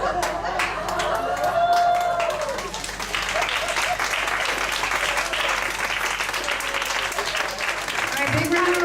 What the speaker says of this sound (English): big round of applause for the improv troupe.